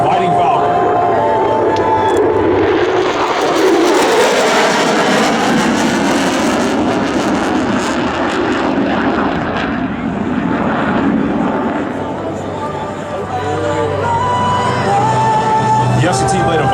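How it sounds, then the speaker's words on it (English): An F-16 Fighting Falcon fighter jet flies over an air expo at Joint Base Lewis-McChord, producing a loud, sustained engine roar that swells and fades as it passes, with crowd noise and a voice audible underneath. "F-16 Fighting Falcon."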